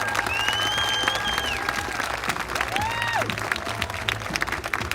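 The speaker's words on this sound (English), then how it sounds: "give them a big round of applause" Live audience at a 2019 contest show applauds the contestants, sustained clapping mixed with crowd noise and scattered cheers, with whistles rising above it.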